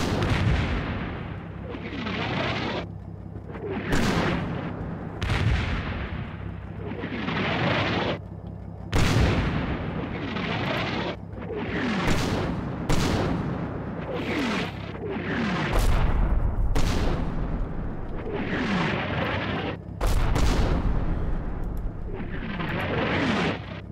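Artillery fire in the war game Combat Mission Red Thunder: repeated heavy booming blasts with long rumbling decays, coming every second or two over a continuous low battlefield drone.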